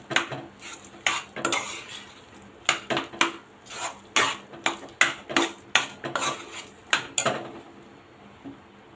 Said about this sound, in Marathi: आता हे चांगलं मिक्स करून घेते।